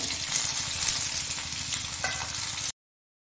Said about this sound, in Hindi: अब इसमें डालिए तेल। अब इसमें डालिए ये ककोड़ी।